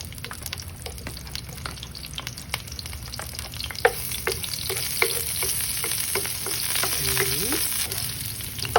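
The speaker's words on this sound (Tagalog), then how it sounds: "Saute the garlic." Garlic sautéing in a pan for a Filipino dish of sayote, kangkong and pork, a loud continuous sizzle broken by frequent sharp crackles and pops, with scraping stir strokes near the end.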